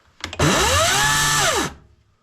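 A Dnipro-M DCS-200BC cordless battery chainsaw revs up from a brief trigger blip into a smooth high whine, holds for over a second, then winds down, close and loud with no talk.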